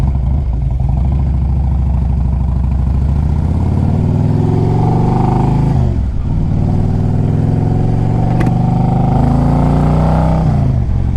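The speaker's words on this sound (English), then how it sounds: "It's got true dual Reinhardt pipes, and it sounds good. Real throaty." A 2007 Harley-Davidson Electra Glide Standard with true dual Reinhardt exhaust pipes on the road: a loud, throaty, continuous engine roar that climbs in pitch under acceleration, with brief dips at gear changes.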